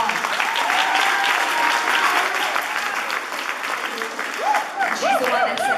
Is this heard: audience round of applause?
yes